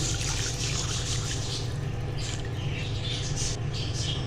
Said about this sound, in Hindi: अब इसमें डालूँगी मैं 3 गिलास पानी